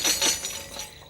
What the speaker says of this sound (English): Tambourine.